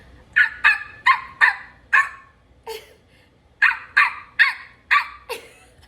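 A person imitates a dog barking in two bursts of short, sharp barks, about five each, loud and close with brief pauses between.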